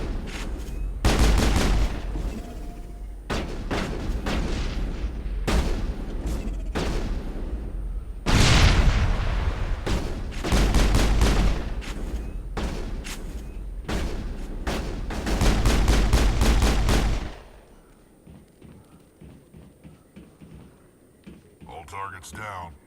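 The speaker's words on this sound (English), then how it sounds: "Easy headshot." Gunfire in the Mass Effect sci-fi shooter, a rapid series of loud, sharp shots and booming blasts in close bursts, ending abruptly and leaving quieter game ambience afterward.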